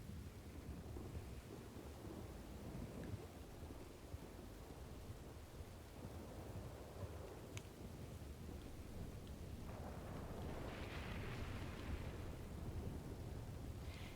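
A loud thunderstorm rumbles and roars in a Red Dead roleplay game, with dense low rolling thunder and rain hiss throughout and a brighter crackling swell near the end, no voices.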